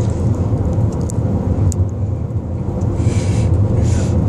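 A car drives along a road in Utah, its steady engine rumble and tyre noise filling the cabin at constant loudness, with no talking.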